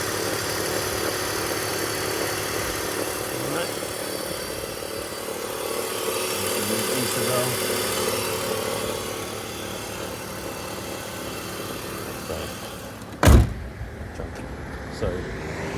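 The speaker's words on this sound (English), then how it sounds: "Fan stops and goes when it's cold." BMW E39 engine idling while the cooling fan runs, a steady low hum and whir heard close, followed by a sharp thump near the end.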